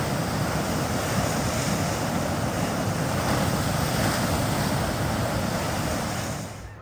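River water flows as a broad, steady rushing noise mixed with outdoor wind buffeting, constant and fairly close, fading slightly at the very end, with no speech.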